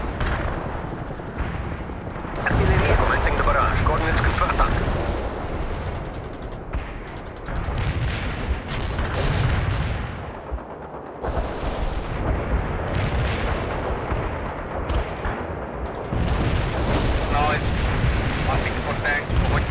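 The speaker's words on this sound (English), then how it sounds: "Artillery strike successful." Artillery strike in the real-time strategy game World in Conflict, heavy rolling booms and barrage blasts in repeated loud waves, with radio-style voices speaking between and over the explosions.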